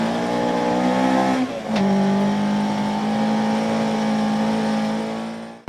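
A rally car at the start of a stage in Sastamala, Finland, its engine revving hard and pulling away with a brief break during a gear change, then holding a strong, loud, steady drone before cutting off.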